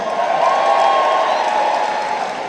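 A crowd at a Ricky Hatton tribute evening applauding and cheering for the Hattersley Massive, a sustained wash of clapping with raised voices, steady and full throughout, tapering slightly at the end.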